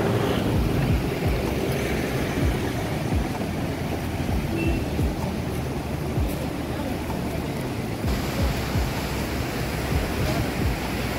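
Steady, broadband roar of a flooded river rushing past, continuous and close, with no voices over it.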